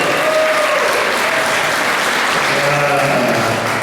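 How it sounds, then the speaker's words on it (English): Audience applause at a fundraiser, dense and loud clapping that holds steady throughout without a break. "Give her a big round of applause."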